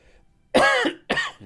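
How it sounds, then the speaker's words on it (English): Two harsh, loud bursts of coughing from a person with a cold, close to the microphone, separated by a short pause with no speech around them. "I've got a bit of a cough at the moment"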